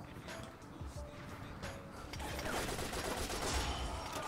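Rapid gunfire from the video game 50 Cent: Blood on the Sand, with repeated shots and bursts over a dense game soundscape that grows louder in the second half.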